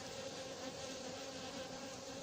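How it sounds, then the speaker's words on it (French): Bees and a hornet buzz steadily around the hives of an apiary, a dense continuous insect drone held close and fairly loud with no voices over it. "Voilà un frelon qui est dessus, là, il essaie d'attaquer."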